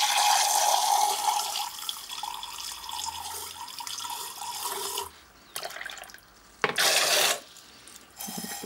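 Water jet running into a mixing preparation of diluted pigments for casting an ant farm, a steady splashing flow that stops and restarts in short bursts near the end.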